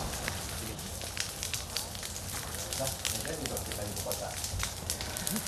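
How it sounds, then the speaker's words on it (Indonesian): Fire burning through peatland mixed with trees and shrubs in Palangka Raya during the dry season, a dense continuous crackling and popping roar with sharp snaps throughout. "Kobaran api melahap lahan bercampur pepohonan dan semak belukar"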